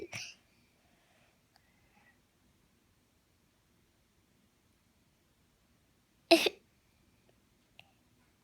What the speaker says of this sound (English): Can you make a hiccup?